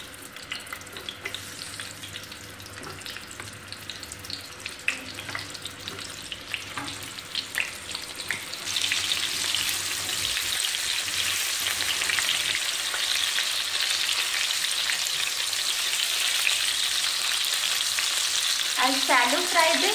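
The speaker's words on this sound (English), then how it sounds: "I'll shallow fry this on high flame." Pointed gourd pieces shallow frying in hot oil over a high flame, a steady loud sizzle that swells after a few seconds into a dense hiss, close up with no voices.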